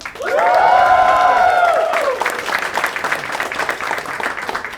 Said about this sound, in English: huge round of applause for my head writer Rohan Desai